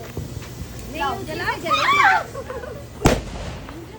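Diwali firecrackers go off during a family celebration, with one sharp crack near the end standing out against voices chattering and calling throughout.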